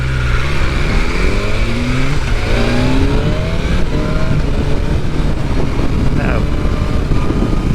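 A car picks up speed on an open road, the engine note rising and sweeping upward repeatedly through the gears, loud and close with constant road and wind roar and someone talking over it.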